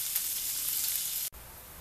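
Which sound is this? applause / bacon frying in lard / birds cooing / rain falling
bacon frying in lard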